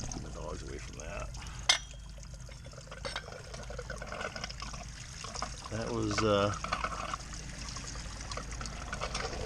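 Antifreeze drains and trickles out of a Bobcat T590 skid steer as its water pump is pulled off, a steady liquid pour running under nearby talk.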